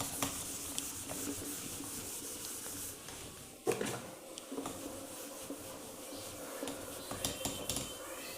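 A hand rubs back and forth across a classroom board to erase maths writing, a steady scratchy swishing with a louder bump midway, faint and close with no talking.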